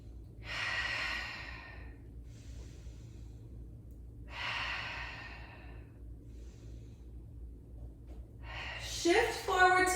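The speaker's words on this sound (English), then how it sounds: "Also known as downward dog, upside down V position. Breathing here." Heavy breathing during a downward dog yoga stretch: slow, audible breaths with long rushing exhales about every three to four seconds, close up over a low background hum, ending with a sharper, noisier breath.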